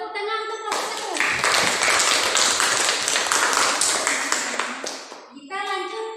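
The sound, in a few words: applause for group 1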